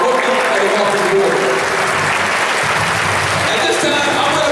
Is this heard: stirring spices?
no